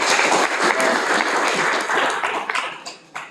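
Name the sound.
audience applause for Professor Alexander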